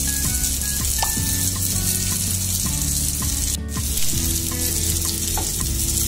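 An onion, tomato, ginger-garlic and spice masala with salt sizzles steadily in a pan, close and loud, with a constant frying hiss broken by occasional stirring knocks and a brief pause midway.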